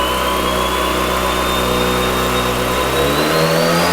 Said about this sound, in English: we are dyno tuning my RX7